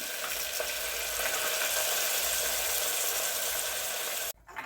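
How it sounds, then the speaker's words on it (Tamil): A steady, close sizzle of rice and lentils frying in ghee continues without pause, then cuts off abruptly at the end. "அந்த நெய்யில் எண்ணெயிலையும் கொஞ்சம் அரிசி பருப்பு நல்லா வதங்குச்சுன்னா நல்லாயிருக்கும்"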